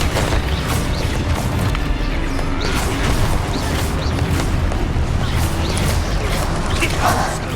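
Explosion spell cast during a first fight in Hogwarts Legacy, producing loud booming blasts and crashing impacts over a dense, rumbling game soundscape with repeated sharp hits.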